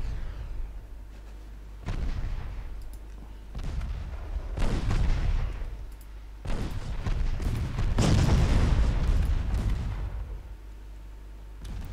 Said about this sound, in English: Mora is doing a lot of damage though with her uh, six inch guns